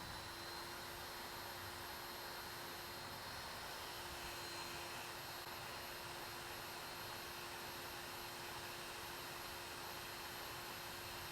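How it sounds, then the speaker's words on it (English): A Somnera CPAP-alternative airbox motor runs at pressure setting 10, giving a steady, even whooshing hum with a faint constant tone, quiet and unbroken throughout. "Listen to the airbox motor at an air pressure setting of 10."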